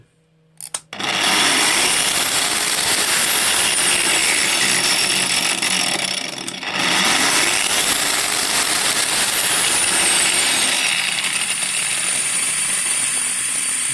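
Angle grinder whose disc spins loose on its shaft, switched on after a few clicks and running at a loud, steady high-pitched whine, with a short dip midway before it keeps screaming.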